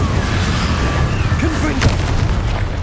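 Incendio fire spell cast in Hogwarts Legacy, heard as booming, whooshing magical bursts amid dense game combat noise, with spoken voice mixed in.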